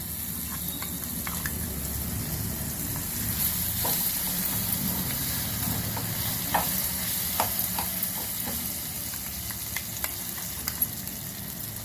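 Steady sizzling of hot oil tempering with dried red chillies poured into a chutney, with a spoon stirring and tapping against the pan, close and continuous.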